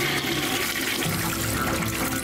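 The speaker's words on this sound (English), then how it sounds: "toilet. Flush." A toilet flushing in the pixel art video game Everything Is Fine, a steady, loud rush of water running continuously through the whole stretch with no speech over it.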